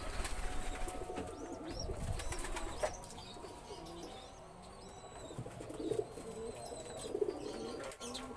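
Pigeons during giring courtship, including a grey pied male, give soft repeated coos near the microphone, with wing flaps and a light flutter over a busy loft background.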